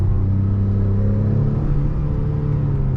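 A 2022 Acura TLX with a 10-speed automatic transmission hums along while driving, its engine note rising slightly and rumbling steadily from inside the cabin, with no one talking.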